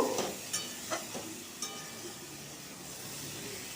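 Pumpkin and potato curry with salt and turmeric stirred in a pan with a teaspoon: a handful of soft scraping strokes over a low frying hiss that fades to a quiet steady sizzle.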